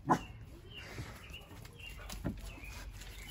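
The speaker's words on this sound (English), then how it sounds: "The dog that y'all might be hearing in the back is Jack." A Dogo Argentino barks from somewhere behind the house, faint and distant, with one louder bark at the start and a few softer ones later over low background noise.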